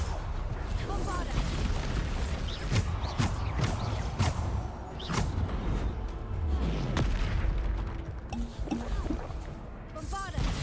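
Bombarda explosion spells from the video game Hogwarts Legacy go off in quick succession, a string of sharp booming blasts and thuds amid hectic combat sounds, with voices calling out over the fight.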